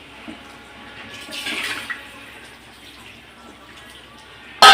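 Water is added to a pot of mutton curry, a short splashing gush that swells and fades within about a second amid quiet kitchen background.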